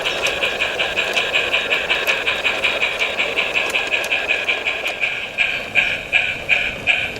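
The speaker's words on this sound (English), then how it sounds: "I turn my attention to the up sand train and allow it to depart." A model railway sand train pulls away from a station on a light railway layout, with a steady rhythmic clicking of wheels over rail joints that quickens slightly and grows a little louder toward the end.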